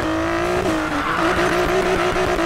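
A customized Nissan GT-R R32 in Need for Speed Payback revs with a steady exhaust roar and squealing tires, loud and continuous, sliding through a drift.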